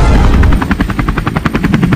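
Loud, close helicopter with a rapid rhythmic rotor chop throbbing throughout.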